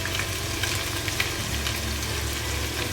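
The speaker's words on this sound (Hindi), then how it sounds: "अब इसको थोड़ी देर के लिए फ्राई करेंगे हम।" Garlic and ginger paste frying with golden brown onions for street-style daal mash: a dense, steady sizzle close up that runs continuously with no talking.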